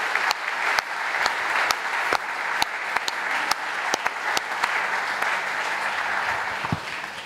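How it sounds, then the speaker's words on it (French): A church congregation applauds at a French celebration service, a steady, moderately distant wash of many hands with a few sharper individual claps standing out throughout. "Nous pouvons nous asseoir et nous acclamons le Seigneur."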